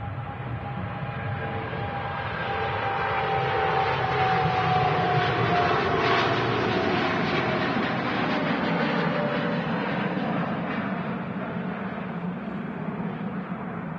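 A TUI Boeing 787-8 Dreamliner departing Manchester Airport, a broad jet-engine roar that swells over several seconds and then slowly recedes into the distance.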